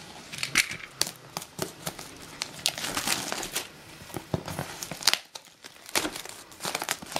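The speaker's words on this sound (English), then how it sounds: "I'll just cut the shrink wrap off." Shrink wrap crinkles, crackles and tears as it is cut off a paintball marker box, with a steady run of close, crisp rustles and snaps.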